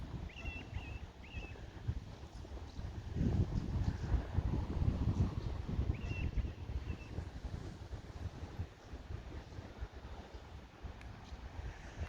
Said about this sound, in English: The waves are a long way out. It's nearly low tide.